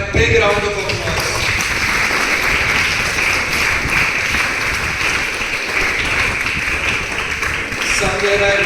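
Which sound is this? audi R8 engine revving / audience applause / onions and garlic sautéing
audience applause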